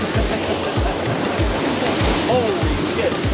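A wave raised by a big ship's wake crashes against a seawall on the Hudson River, a steady roaring wash of surf with rhythmic low thumps, close and loud throughout.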